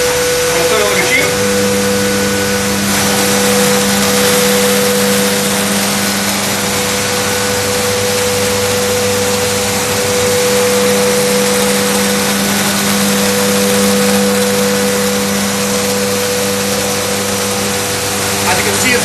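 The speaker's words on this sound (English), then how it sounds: "Turn on the machinery, and I'm gonna stop talking because it's gonna be quite noisy." Chocolate-making machinery running at speed alongside a vacuum cleaner, a loud continuous mechanical whine and hum with steady tonal drone, no speech over it.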